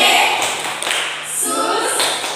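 Rhythmic hand clapping from a children's Sunday school group during an online church service, a short run of claps with a chant-like voice over them.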